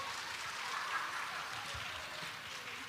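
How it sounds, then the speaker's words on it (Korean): Applause and cheering from a church congregation after the 6th parish's entrance performance, an event with dancing and drumming, a steady broadband crowd wash that holds evenly for the whole stretch, no voices standing out. "멋진 무대 보여주신 육교구에게 다시 한번 큰 박수 부탁드립니다"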